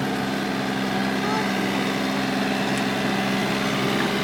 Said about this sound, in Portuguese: Olha lá o trator vermelho.